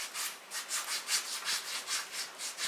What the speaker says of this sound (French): Vous allez aussi gommer les orteils